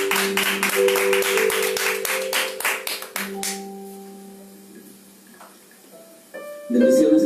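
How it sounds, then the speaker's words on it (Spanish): A church congregation gives a burst of loud clapping that holds for about three seconds, then stops abruptly, followed by quiet room sound, faint tones and a short stretch of voices. "lo reciban con un fuerte aplauso."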